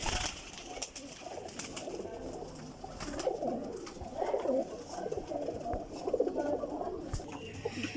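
Ferozpuri pigeons coo in soft, rolling bursts close by, several birds overlapping against light rustling and scattered clicks.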